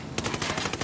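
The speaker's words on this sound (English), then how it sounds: "Trying to shoot the guy." Rapid automatic machine gun fire in the video game Ghost Recon Wildlands, a dense, loud burst of shots repeating steadily throughout, with no talk over it.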